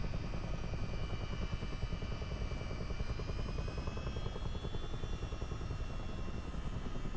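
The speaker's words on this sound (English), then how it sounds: "Chopper decided to take off on its own." A Chinook helicopter lifts off in MSFS 2024, its rotors thudding in a fast steady beat over a loud, constant engine whine and roar, with no voices.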